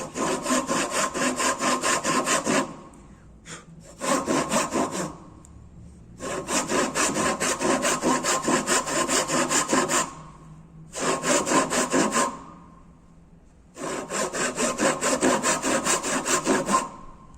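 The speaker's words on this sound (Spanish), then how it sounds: "Controlo en los dos cantos el aserrado que estoy realizando para no pasarme de la línea." A handsaw cutting a wooden tenon, with rhythmic rasping push-pull strokes repeated in four long bursts separated by short pauses, close and loud, with no talking.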